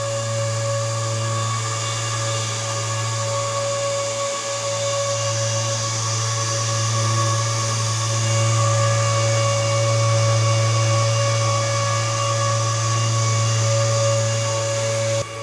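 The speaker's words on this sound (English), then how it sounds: "So this is how miner will look when it's running." Innosilicon T2T-HF+ bitcoin mining machine running, a loud, steady high-pitched fan whine with a constant electrical hum, unbroken from start to finish.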